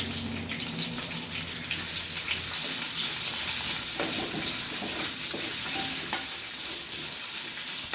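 Lengthwise-sliced onions, added with green chillies, fry in a hot pan, giving a steady, close, loud sizzle with faint stirring scrapes and no voices.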